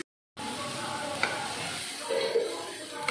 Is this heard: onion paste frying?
yes